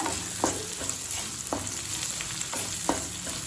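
Whole small shallots sautéing in a pan for onion rice, a continuous close sizzle with a few brief scraping strokes of a spoon spaced through it, and no voices.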